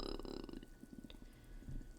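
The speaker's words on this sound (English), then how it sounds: "Oh, that was a double burp." A woman burps twice in quick succession, low and fairly faint, over a murky background.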